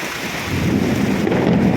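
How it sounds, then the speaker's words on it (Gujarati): Heavy evening downpour on a road in Khambhalia village, a dense steady roar of rain with a low rumbling swell of thunder building across the clip, mixed with wind noise and no talking. "જોઈ લેજો, કડાકા ને ભડાકાનો અવાજ સાંભળજો."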